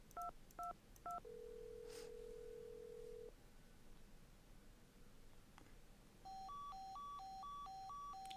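Telephone keypad dialing tones in a Nancy Drew video game, short dual-tone beeps sounding in quick bursts, then a long steady tone, then a rapid run of alternating keypad beeps near the end, all clean and close with no talk.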